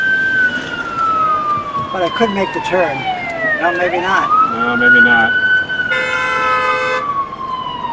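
An ambulance siren passing along a city street, its wailing tone sweeping up and down and shifting pitch as it goes by, loud and close, with people talking over it.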